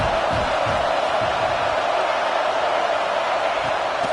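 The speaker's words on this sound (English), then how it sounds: "This crowd trying to make life miserable for this offense." Steady roar of a large football stadium crowd at an Ohio State game, a dense continuous wash of voices and cheering that holds level throughout without breaks or a single standout call.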